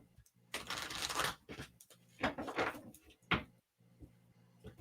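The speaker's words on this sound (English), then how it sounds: "So I'm going to shuffle those" Angel Healing oracle cards being shuffled by hand in several short bursts of papery riffling and sliding, close and moderately loud, with brief pauses between.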